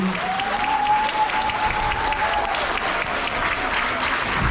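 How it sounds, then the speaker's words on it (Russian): Audience in a concert hall in Yakutsk applauds steadily and loudly at a talent showcase, the dense clapping sustained throughout with a faint tonal hum threading beneath it. "Аплодисменты зрительного зала, конечно, вам."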